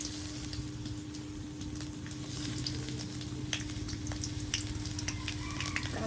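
Chopped onion frying in hot oil for a fish curry, a steady close hiss and crackle of sizzling with scattered sharp pops throughout and no talking.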